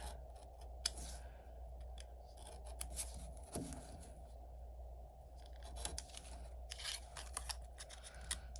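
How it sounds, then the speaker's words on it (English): A craft knife cuts through the corners of thin cardboard pieces from a miniature flower house kit, making quiet close scraping and crunching strokes in short repeated bursts over a low background hum. "So I'm just going to cut these corners with this knife."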